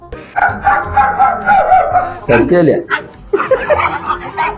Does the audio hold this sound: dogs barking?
yes